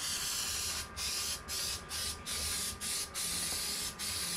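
An aerosol can of spray adhesive hisses loudly and close up as it coats the edges of a car dash pad, in a run of steady bursts broken by short pauses.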